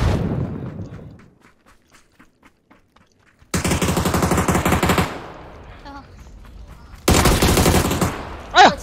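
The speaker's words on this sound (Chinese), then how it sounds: "这个枪声" Bursts of automatic machine gun fire in a video game, a rapid rattling volley, a pause, then two more loud sustained volleys with a brief ringing tail near the end.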